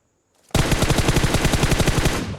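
Automatic gunfire in the mobile game Battlegrounds Mobile India, a sudden loud sustained burst of rapid evenly spaced shots that starts after a brief silence and runs to the end.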